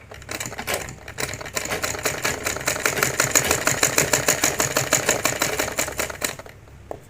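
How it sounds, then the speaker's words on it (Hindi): A sewing machine stitches a strip onto a blouse, a loud fast even needle clatter building steadily over several seconds before stopping, close and with no voice. "इस प्रकार से हमें सिलाई कर देना है"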